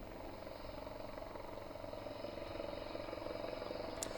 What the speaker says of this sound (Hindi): इन हेलीकॉप्टर्स को आप देख पा रहे हैं और ये एयर शो चल रहा